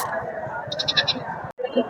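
A sheep bleats in a short, wavering, quavering call amid the busy din of the Ranipet goat and sheep market, with voices and crowd chatter around it and a brief gap before the noise returns.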